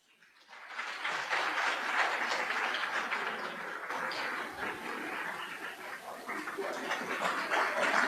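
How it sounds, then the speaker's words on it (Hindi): A large audience in Shimla gives the Chief Minister a standing ovation, with loud, continuous, dense applause that rises in the first second and holds steady throughout. "स्टैंडिंग ओवेशन में जोरदार तालियों के साथ माननीय मुख्यमंत्री महोदय का स्वागत करें"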